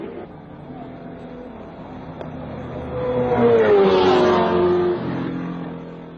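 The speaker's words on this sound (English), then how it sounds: "till the two snarling Ferraris ran out of time and road" Ferrari racing cars at the 1961 Monaco Grand Prix, engines rising to a loud snarling rev as one passes close by, then fading back into a steady hum.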